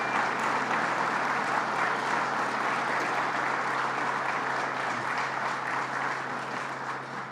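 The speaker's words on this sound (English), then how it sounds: "Let's give them a round of applause again." Sustained applause from a crowd at a New York State event in Massena about the Alcoa bailout, a steady dense wash of clapping that continues unbroken and fades slightly toward the end.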